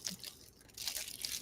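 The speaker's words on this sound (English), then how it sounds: "the crunchy thing, the prime packaging" Crinkly plastic Prime mailer packaging handled up close, giving a short run of faint crunching and crinkling rustles.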